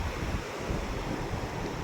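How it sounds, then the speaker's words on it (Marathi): Floodwater of the swollen Pedhi river at the bridge near Hivra Korde after heavy rain, a steady broadband rush and roar with low rumble and wind buffeting, continuous and close. "पेढी नदीलाही भरपूर पाऊस पूर आला"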